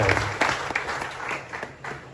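An audience at a cancer tribute gathering applauds, a full round of many hands clapping close by with a few sharper claps standing out, fading slightly toward the end.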